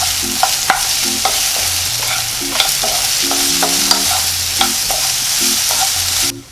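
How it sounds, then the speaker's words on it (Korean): Zucchini and sliced shiitake mushrooms stir-fry in a pan over medium-low heat, giving a steady sizzle with regular spatula taps and scrapes and a faint background tone, ending abruptly. "잘라놓은 표고버섯 같이 넣고 볶아주세요"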